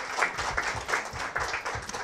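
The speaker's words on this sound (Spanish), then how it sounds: "Quiero un aplauso para Gerardo Huerta Mesa." An audience applauds, a steady dense patter of many hands clapping at moderate volume.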